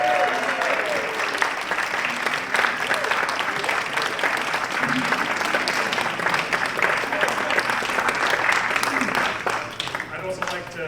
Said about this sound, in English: One more round of applause for the band.